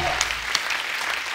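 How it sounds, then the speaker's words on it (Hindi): Studio audience applause on a Hindi comedy talk show, a steady wash of many hands clapping at full volume with no break for its short length. "एक बार सर के लिए जोर बड़ा तालियां हो जाए।"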